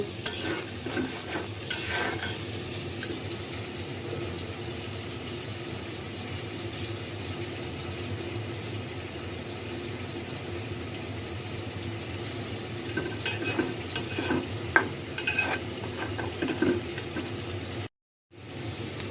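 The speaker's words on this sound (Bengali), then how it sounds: "এখন লবণটা বেশি দিব না ডিমটা ভেজে নেব" An egg frying in a pan in a home kitchen: a continuous, even sizzle close by with scattered light clinks and scrapes of stirring, cutting out briefly near the end.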